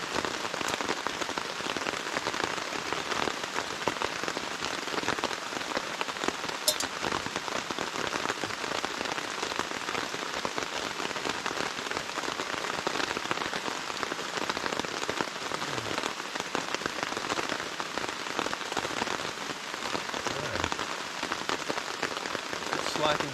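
Dense, steady rain patters on a surface at a backcountry campsite in Pisgah National Forest, a continuous close hiss with scattered drips throughout.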